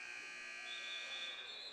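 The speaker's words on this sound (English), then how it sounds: "Shot clock goes before the shot makes contact." A shot clock buzzer at an indoor Nor'easters versus Oaks quarter-final game, a steady sustained electronic tone that holds for nearly two seconds, loud over faint arena murmur.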